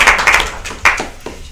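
A few scattered hand claps at a town selectmen's meeting right after a vote, brief and uneven, mixed with nearby voices.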